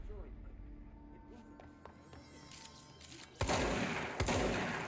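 Gunfire in the video game Control bursts in loud, rapid clusters near the end, following a quieter stretch of game ambience and scattered effects.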